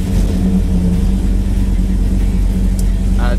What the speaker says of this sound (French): déjà le ralenti ça me plaît mieux à 1000 tours